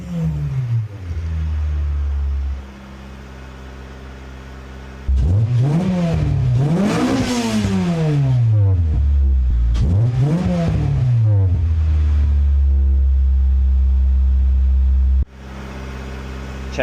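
Project car engine running again after years off the road with a new battery, idling loudly nearby, then revved twice in rising and falling sweeps before settling back to idle and cutting off near the end.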